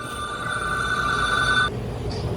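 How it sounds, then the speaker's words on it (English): A telephone rings steadily in a car repair shop, a continuous electronic trill that stops abruptly near the end, loud and close over low workshop rumble, with no talking. "There go that phone, y'all."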